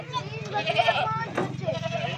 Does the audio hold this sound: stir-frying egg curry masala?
no